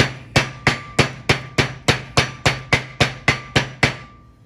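Light hammer tapping around a front wheel bearing grease seal on a 1973 Mach 1, twelve evenly spaced sharp metallic taps at a steady rhythm, close and clear with no talk.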